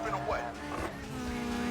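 A tuned car drifting in the racing game Need for Speed Underground 2 lets out a whining tire squeal over steady engine drone, with sweeping pitch slides, moderately loud and continuous, with game sound layered underneath.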